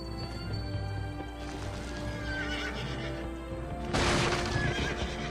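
Horses in the PS2 game Gun whinny and neigh over a continuous clatter of hooves, ending in a louder burst of hoofbeats near the end.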